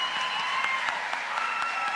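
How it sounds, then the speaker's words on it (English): Steady applause fills a commencement ceremony hall as the audience honors the graduating class of 2022 at Muskingum University, dense even clapping with no talk over it. "please rise and face the audience for one more round of applause"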